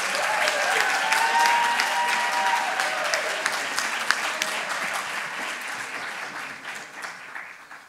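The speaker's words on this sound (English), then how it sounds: "Can we get a round of applause?" Applause from the audience at a business plan competition finals award, loud sustained clapping from a crowd that gradually thins and fades, with a few voices mixed in.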